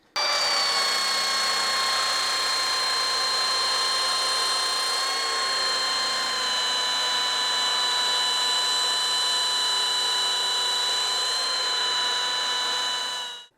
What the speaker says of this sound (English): The way that we sand these, using a hard pad and 80 grit to start with.